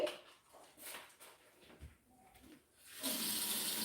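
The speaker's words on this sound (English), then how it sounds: "And I'm adding warm water because our water is warm already." Warm water runs from a tap for yarn dyeing, a soft rushing stream that starts faintly, drops away, then comes on steady and louder near the end.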